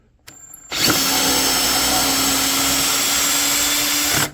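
A power drill driving long screws whirs up and runs steadily for several seconds at close range, then stops abruptly.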